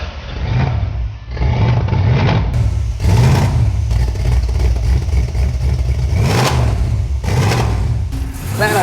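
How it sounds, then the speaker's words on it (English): Chevrolet S10 street truck with a V8 conversion and new exhaust, revving loudly and close, its engine note swelling and dropping in repeated throttle blips over a deep rumble, with voices partly mixed in. "Man, our truck sounds great with the new exhaust on it."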